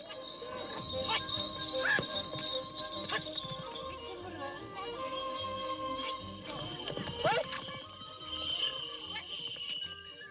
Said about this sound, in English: Archery on horseback is by no means easy.